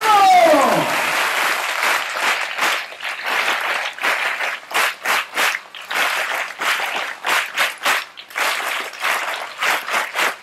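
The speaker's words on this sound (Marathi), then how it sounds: "हा आता ती नवीन पद्धत टाळ्या वाजवण्याची काय आहे ती आपण सुरू करूया." An audience claps together in a new rhythmic pattern at a Marathi children's television show, loud bursts of clapping broken by short regular pauses, opening with a brief high sliding tone.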